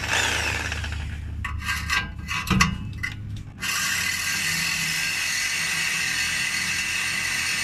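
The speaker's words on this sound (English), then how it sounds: "the blade on my saw is too short to cut through the pipe at its current length" A hand saw rasps against a car exhaust pipe, with a short run of quick back-and-forth scraping strokes in the middle, set against a steady background hiss.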